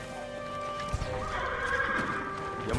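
A samurai horse in Ghost of Tsushima Director's Cut on PS5 whinnies loudly against a steady background hum, with faint hoof clops mixed in.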